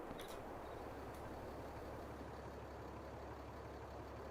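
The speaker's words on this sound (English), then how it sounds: "left my truck running. I can hear it running in the background" A heavy truck engine in Farming Simulator 22 idles steadily in the background, a low continuous rumble with a brief hiss near the start.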